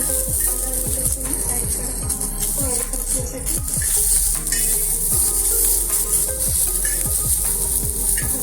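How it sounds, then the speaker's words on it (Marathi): Onion roasting in a pan for a Makar Sankranti bhogi vegetable dish gives a steady close sizzle and crackle, with repeated scraping and stirring strokes throughout. "कांदा भाजून"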